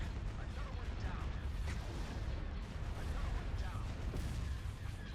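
Dense, continuous space-battle weapons fire in Star Wars: Empire at War, a steady low rumble of blasts and booms at moderate volume with no clear pauses.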